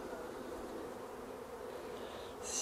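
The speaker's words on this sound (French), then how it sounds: "je vais secouer, donc, comme je dis, les abeilles. Ici, dans l'éleveuse." Honeybees from a queen-rearing box buzzing in a dense, continuous drone as they are shaken off a brood frame, steady and close with a brief rise at the end.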